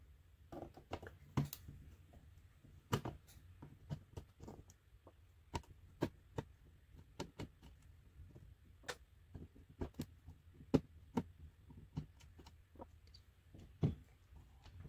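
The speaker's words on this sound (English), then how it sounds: "This cartridge actually has four game bit screws right here that need to be taken out of the cartridge" Small security screws being worked out of a Super Game Boy cartridge with pin corrosion, heard as scattered faint clicks and ticks of a gamebit driver against plastic, close and quiet with no talk.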